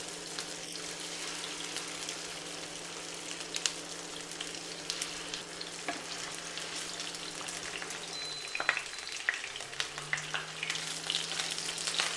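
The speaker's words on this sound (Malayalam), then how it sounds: "അപ്പോൾ ഈ എണ്ണയിലേക്ക് നമുക്ക് ഓരോന്ന് വെച്ച് കൊടുക്കാം." Chicken seekh kebabs frying in hot oil in a pan, giving a steady, even sizzle and crackle with scattered small pops, close and continuous throughout, no talking.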